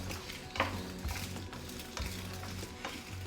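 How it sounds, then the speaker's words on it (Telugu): Gravy ingredients frying in oil in a pan, with steady close sizzling and a few sharp clinks and scrapes of stirring against the pan. "ప్యాన్లో కొంచెం నూనె వేసుకొని ఇవన్నీ వేసేయాలి డైరెక్ట్గా మొత్తం వేసేసుకోవచ్చు చూడండి వీటన్నిటిని మంచిగా వేయించుకోవాలి"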